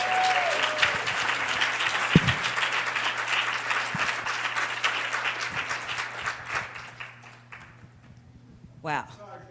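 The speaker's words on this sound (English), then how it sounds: "I think she deserves another round of applause." Audience applause follows a patient's testimony, steady and sustained for most of the stretch before thinning out toward the end, with a few voices mixed in.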